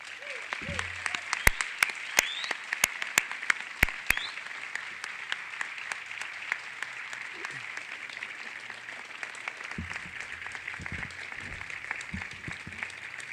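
A large crowd applauds steadily for a university president being welcomed at Pacific University, with sharp individual claps standing out early and the sustained clapping continuing throughout.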